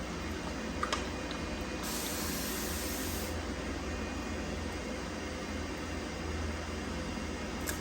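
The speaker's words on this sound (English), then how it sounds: "you could spray it with a little bit of water on this step" A brief burst of fine water spray from a spray bottle onto a wig hisses for about a second, standing out over a steady background hum and hiss.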